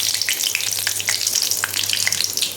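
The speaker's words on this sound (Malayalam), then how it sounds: "ഫ്രൈ ചെയ്തെടുക്കാം കേട്ടോ." Food fries in a pressure cooker while chicken biryani is being made, a steady close sizzle with scattered crackles and pops and occasional stirring.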